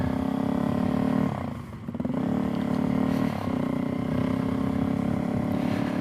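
A Suzuki DRZ 400SM single-cylinder motorcycle revs hard in second gear with a buzzing, strained tone. It briefly drops off before pulling up again, loud and close, with a rough clattery edge.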